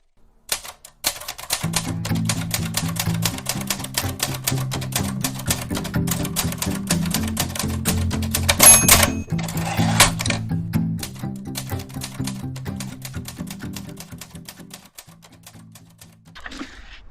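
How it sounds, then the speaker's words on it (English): A printer running steadily for a long stretch, turning out pages of a finished novel manuscript with a dense rapid mechanical clatter and repeating low whirring feed, loud and close, easing off near the end. "There's something very satisfying about printing off a novel that you've spent so long writing, though."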